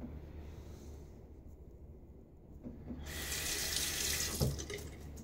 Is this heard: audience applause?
no